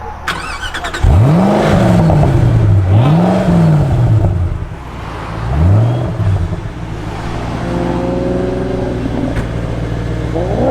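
A supercar engine at a Cars & Coffee meet cranks and fires up, then revs sharply twice and again before settling into a loud, throaty idle.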